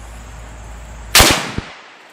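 A T/C Compass deer rifle fires a single sharp, loud gunshot after a short quiet stretch, followed by a brief echoing tail and a faint click.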